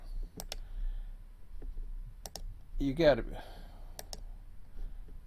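Mouse clicks on a computer while running a Run8 V2 train simulator, sounding as sharp, isolated ticks spread across the moment, close and fairly faint, with a brief spoken remark in the middle.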